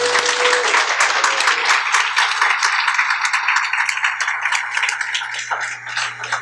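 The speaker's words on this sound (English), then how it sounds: "First, another round of applause for our graduates" Loud, close applause for graduates at the close of a dual degree ceremony, rapid clapping from many hands held steady for several seconds over a low hum, with a faint voice early on.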